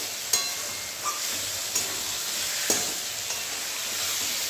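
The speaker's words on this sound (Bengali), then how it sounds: "সেদ্ধ করা ঘুগনিটাই এভাবে করে এটাকে ভালো করে মশলার সাথে নেড়ে চেড়ে কষিয়ে নেবো একদম।" Boiled chickpea ghugni being stirred and fried with spices in a pan: a soft, continuous sizzle with occasional sharp spoon scrapes and clicks against the pan, fairly quiet and close.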